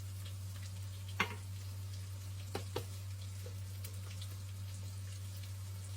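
Onions and garlic fry quietly in a pan with soft, constant sizzling and a few faint ticks from seasoning or utensils, heard close with no talking over a low steady hum.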